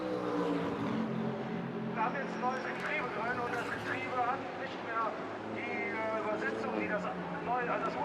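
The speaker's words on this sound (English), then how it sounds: "The Haribo Motorsport Mercedes, however, is a quick car, busy working its way through the traffic." A Haribo Motorsport Mercedes race car works through traffic at the Nürburgring 24-hour race, its engine droning and shifting in pitch beneath steady talking throughout.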